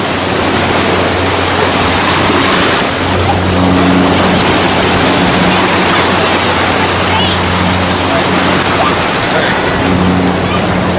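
Steady, loud rush of ocean water churning below a pier at Waikiki, Hawaii, a constant broadband wash with a faint low hum in the background.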